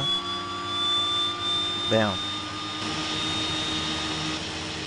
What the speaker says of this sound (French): Donc on va actionner le starter de gauche.